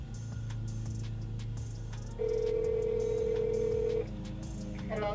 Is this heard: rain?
no